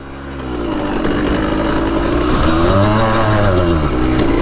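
A small, high-pitched 85cc dirt bike engine, new and being broken in, revs up and holds, its pitch rising and falling loudly and close by, with no voices.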